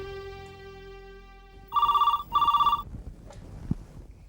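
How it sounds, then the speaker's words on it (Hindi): Late at night a telephone rings, two loud electronic trill bursts in quick succession near the middle, following a steady hum and then fading into faint room noise. "रात के 1:30 बजे किसका फोन है?"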